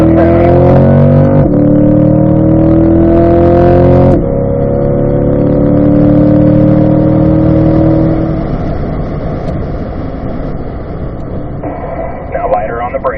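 Race car engine held in third gear on a track, a loud steady drone with harmonic lines that rise and shift, then fade slightly as another vehicle passes late, with an instructor talking over it.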